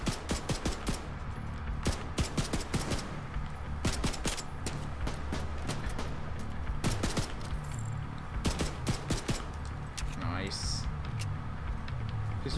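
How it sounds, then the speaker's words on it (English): Rapid bursts of turret gunfire in The Division 2, hammering out in dense repeated volleys close by for most of the stretch, with a voice talking over the shooting. "Oh, he's on a turret."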